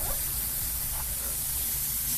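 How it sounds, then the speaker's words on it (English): A spray bottle hisses in a steady, continuous burst while a parrot enclosure is being cleaned, close and fairly loud, with no talk over it. "I need to spray."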